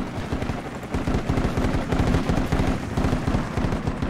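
Rapid bursts of automatic gunfire in a military shooter video game, aimed at an enemy technical near a main gate; dense, loud, continuous rattling shots filling the whole stretch with no talk.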